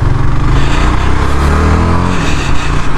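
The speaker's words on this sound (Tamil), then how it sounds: "ஸோ வண்டி இன்ஜின் ஸ்டார்ட் பண்ணோன்னே ஒரு கெத்தான ஒரு எக்ஸாஸ்ட் நோட் வருது" A 2022 Yezdi Scrambler motorcycle engine runs with a loud, steady, throaty exhaust note, close by and continuous, with a low pulsing rumble that rises slightly in pitch partway through.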